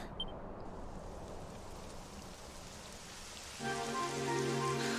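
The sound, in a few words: rain falling in video game Dragon Quest XI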